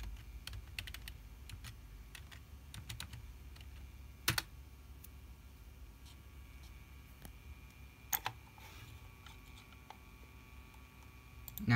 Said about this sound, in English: So now we just type in the password.